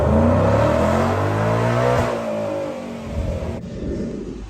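Ford Mustang Dark Horse with a 10R80 automatic transmission revs hard on a dyno, a loud sustained engine roar with rising whine that drops off sharply near the end as the throttle closes.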